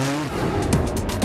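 A train of race cars passes on the Le Mans circuit behind a safety car, with several quick engine and tire swooshes in succession over a loud, busy track roar.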